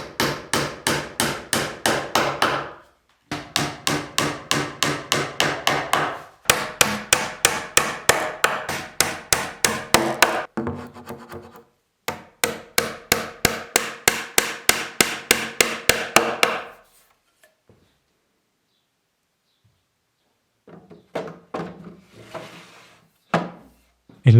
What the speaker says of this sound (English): I prepared a thin sheet of plywood for the back to close things up nicely, and I mounted it using some good old nails.